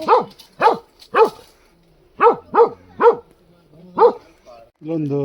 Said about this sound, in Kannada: ನಾಯಿ ಬೊಗಳೋದು ಕೇಳಿಸ್ಕೊಂಡಿರಲ್ಲ,